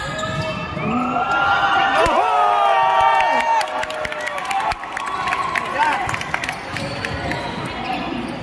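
Loud, sustained crowd cheering and shouting at a university basketball quarter-final, many voices overlapping continuously, with occasional sharp thuds of a bouncing ball.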